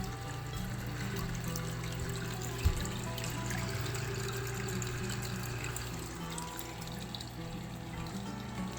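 A Hygger wave maker churns aquarium water and stirs up floating duckweed, producing a steady, close wash of swirling water over a low continuous hum, with no speech.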